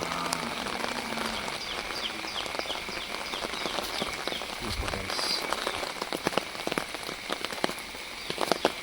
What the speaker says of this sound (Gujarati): વરસાદ ચાલુ છે.